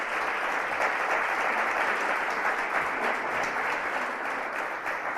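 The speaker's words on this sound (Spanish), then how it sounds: "Por eso os pido que le deis un aplauso a una mujer de bandera." An audience at an education and equality event applauds in a dense, steady burst of clapping that holds at an even level for several seconds.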